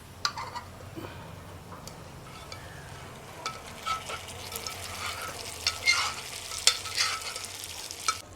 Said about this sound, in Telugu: వీటన్నిటిని ఈ మాత్రం దోరగా వేయించుకోవాలి పోపులు పెట్టుకున్న ఇందులోకే మనం ముందుగా పాము పెట్టుకున్న ఈ పప్పుని కూడా ఇందులో వేసుకోవాలి